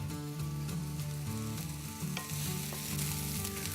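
Diced vegetables browning in a frying pan before beef goes in, a soft steady sizzle with occasional light stirring clicks, partly under a low sustained tonal hum.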